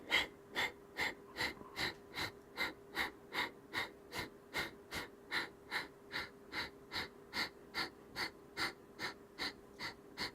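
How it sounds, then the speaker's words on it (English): Rhythmic forced exhales of pranayama breathing during a yoga session, a steady train of about twenty-five sharp, evenly spaced breath pumps, close and clear with no talking. "Again, forced exhale. The inhale is passive. It's great pranayama practice."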